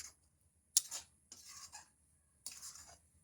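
A coconut mixture for narkel naru is stirred in a pan over very low heat, three short scraping rubs of a spatula in near quiet.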